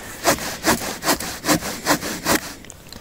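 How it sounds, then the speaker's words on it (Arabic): A hand saw cuts through a wooden pole outdoors on a fishing trip in Turkey, giving six even rasping strokes about every 0.4 seconds, close and fairly loud, then trailing off. "هذا عمود هلا تنقعد بالمنشار تنقصقص لنا فطوط"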